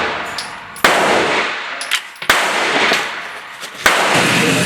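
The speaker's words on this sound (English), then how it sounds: "Just gonna shoot this buckshot." Three heavy 12 gauge buckshot blasts from an SRM 1216 semi-auto shotgun crack out at a steady spaced rhythm, each loud, close report trailing into echo and outdoor range noise.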